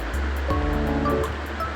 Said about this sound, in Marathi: आता ही मच्छी आपण पाण्यामध्ये 4-5 वेळा स्वच्छ धुवून